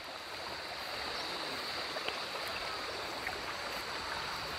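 A river stream flowing at a river resort in Sta. Maria, Laguna, a soft, even rush of water heard steadily throughout, fairly faint and without speech.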